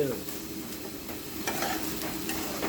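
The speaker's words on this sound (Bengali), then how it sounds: "যেগুলো কচু হালকা আস্তে আছে সেগুলোকে চামচ দিয়ে গলিয়ে দেওয়া হচ্ছে" Soft taro stems pressed and mashed with a spoon in a sizzling pan of taro stem curry cooked with hilsa fish head, with a continuous bubbling hiss and light, irregular stirring scrapes.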